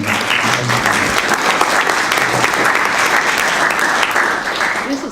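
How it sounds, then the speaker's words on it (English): Steady, dense applause from a crowd fills the whole stretch, a continuous wash of clapping at even loudness. "I think we ought to give her a real round of applause"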